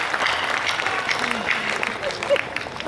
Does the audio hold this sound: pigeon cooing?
no